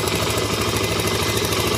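A motorcycle engine idles steadily and close by, a continuous low rumble with fine rhythmic pulsing and light mechanical clatter, the bike having a starter motor that keeps spinning; no one speaks.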